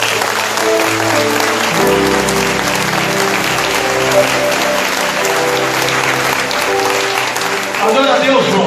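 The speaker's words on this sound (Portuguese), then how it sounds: "Você pode aplaudir ao Rei?" An audience at a church service in Barreiro, Belo Horizonte, applauds in a sustained, loud round that lasts several seconds over ongoing music.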